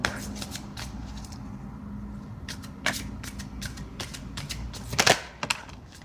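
Tarot cards riffled and shuffled in short crisp bursts, then a single card drawn with a sharper snap near the end, close and fairly quiet against a low steady background hum.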